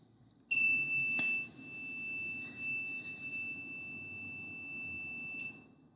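A buzzer on a Raspberry Pi running as a Codesys PLC, set off by a PIR motion sensor, sounds a steady piercing electronic tone for about five seconds before cutting off.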